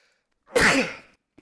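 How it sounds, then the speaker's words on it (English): One sharp sneeze bursts out close to the microphone during a game development livestream, a loud single explosive burst that trails off quickly, followed by a tiny click in near silence. "Very sorry for sneezing into whoever's ear is listening."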